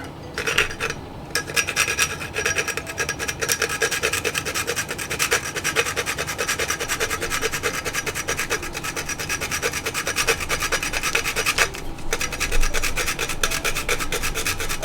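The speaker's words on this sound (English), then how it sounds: "Then we're going to grate our nutmeg." A whole nutmeg rasped against a grater in quick, steady back-and-forth scrapes, close and fairly loud for the whole stretch, with a brief pause or two and no talking.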